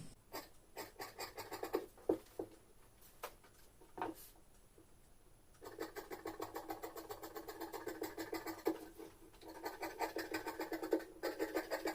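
Scissors cutting fabric for a size 41 kameez front piece, a close, quiet series of crisp snips and scraping strokes in a quick, uneven rhythm, with no talking.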